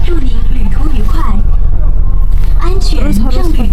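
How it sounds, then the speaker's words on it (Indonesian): Inside a moving bus, a steady low engine rumble and road noise fill the cabin while voices talk over it throughout. "Kita udah di bus."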